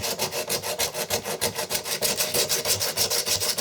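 Sandpaper rubs back and forth over a cast metal handle in quick, even strokes, a close, loud rhythmic scratching of roughly eight strokes per second with no talking.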